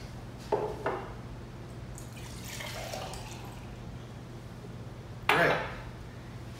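Water is poured into a drinking glass for musical glass percussion, a faint trickle with a few soft splashes and clinks, quiet and without talk.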